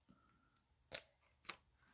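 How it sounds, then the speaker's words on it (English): Scissors snip through a stiff-backed card paper for an arrow fold card, giving a few quiet, crisp cuts spaced apart with soft rustling between them. "Let me just cut a piece of this."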